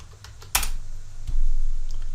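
Computer keyboard clicks in a few scattered keystrokes with one sharper tap, close and fairly quiet over a low background hum, with no talk.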